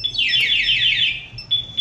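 A Senlo M5 Plus motorcycle's anti-theft alarm chirps in a rapid, rising-and-falling warble for about a second, then gives two short high beeps, loud and close.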